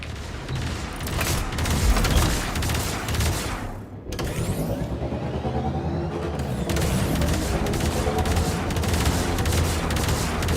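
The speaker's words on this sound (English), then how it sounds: "The gunners are shooting away." Railjack turrets in Warframe fire continuously in sustained, overlapping bursts with booming impacts and mechanical clatter, loud and dense throughout with a brief dip midway.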